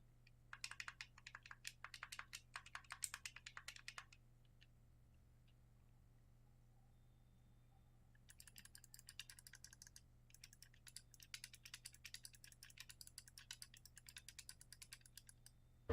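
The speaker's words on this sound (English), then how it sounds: "The buttons are actually quite nice and clicky." Buttons on a Razer Raiju game controller click in rapid, crisp bursts, two runs of close, light tapping separated by a few quiet seconds.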